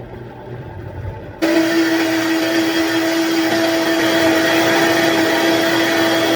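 A blender mixing an avocado and sesame plant-based alkaline sauce kicks in after a short quiet moment, then runs as a loud, steady motor whir with no talking.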